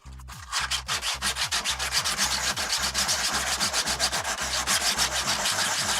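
Sandpaper rubbed over a 3D printed part for a radio control Eagle airplane, a brisk rhythmic scratching of back-and-forth strokes, close and steady, about two strokes per second.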